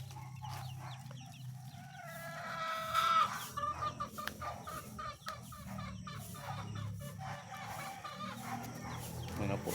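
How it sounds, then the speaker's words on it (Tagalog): Free-roaming chicks and chickens on a farm cluck and peep in a busy, overlapping chorus, with a brief crow-like call rising in the middle, all set against steady outdoor background noise. "Ayan po, naggagala po ang ating mga sisiw para makakain po sila ng iba."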